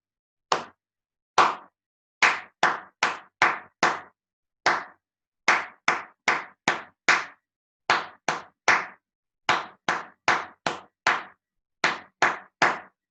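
Hand claps perform a rhythm exercise in a percussion class, sharp close claps in irregular groups of single, double and triple beats separated by short pauses, with no voices.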